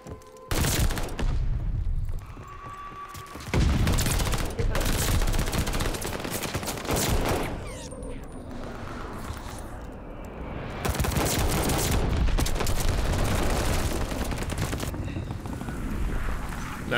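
PPSh-41 submachine gun fire in Call of Duty Vanguard comes in loud, rapid sustained bursts, separated by brief pauses and stacked with booming impacts in a chaotic firefight.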